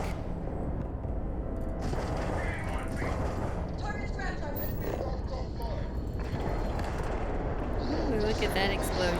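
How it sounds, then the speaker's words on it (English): A dense, rumbling explosion in the space game Starfield during a fight with pirates, with loud continuous combat noise and crackling debris filling the whole stretch. "look at that explosion"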